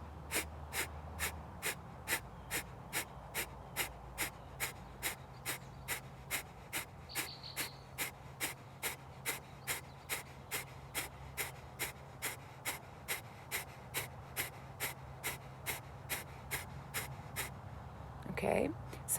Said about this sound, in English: a nice deep inhale through the nose, draw the navel away from the spine, and it's going to look like this